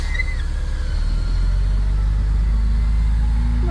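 Heavy truck hauling a 15-ton load of fill dirt rolling in, a loud, close, steady low diesel rumble with a brief squeal near the start and an engine tone rising toward the end.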